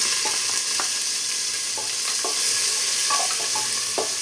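Long-sliced onion fries in a pressure cooker pan for vegetable pulao, a loud steady sizzle broken by scattered scrapes and clicks of a stirring spoon, close and without talk.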